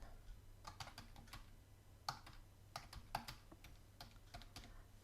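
A password typed on a computer keyboard: a quiet, close run of light key clicks in small uneven bursts, with nothing else heard.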